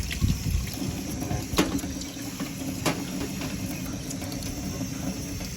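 Water rinsing a motorcycle, a continuous splashing spray with a few sharper spatters, close by with a faint steady background hum.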